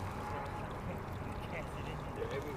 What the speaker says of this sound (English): What's this duck doing?